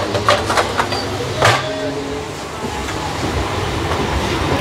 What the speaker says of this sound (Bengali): এটা বনগাঁ রুকাল ঢুকলো দেখতেই পাচ্ছেন